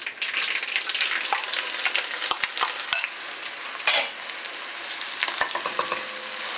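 Garlic, onion, chilli and ginger sizzle and crackle in hot spices in a pot, a steady bright frying hiss broken by a few clinks and scrapes of a spoon stirring.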